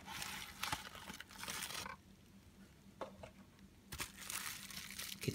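Plastic bubble wrap crinkling around a GoPro case, in close, quiet bursts of rustling with a brief pause in the middle.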